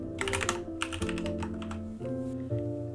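Quick keystrokes clatter as Java code is typed on a computer keyboard, bursts of close tapping with brief pauses, heard over a steady background tone of music and no speech.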